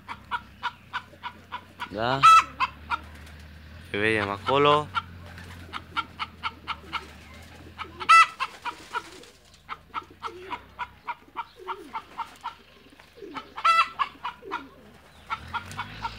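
A noisy hen clucks repeatedly in a pigeon loft, loud, close bursts of clucking and cackling recurring across the scene, with pigeons around and someone briefly speaking.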